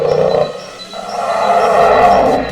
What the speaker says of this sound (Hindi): अपने मोबाइल फोन पर भालू की दहाड़ की आवाज सुनाई